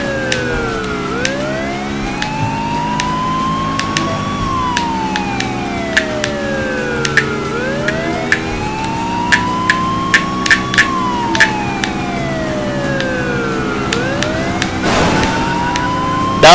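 A police car siren wails in repeated rising and falling sweeps during a pursuit in the video game Burnout 2. Loud and close over a steady engine drone, it ends with a few sharp impact clicks.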